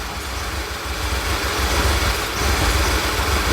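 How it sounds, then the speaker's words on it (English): A 2011 VW Tiguan engine idling rough while misfiring on all four cylinders, a loud, steady low rumble with an uneven, lumpy pulse, heard close up with no talking. "It's misfiring on all 4 cylinders."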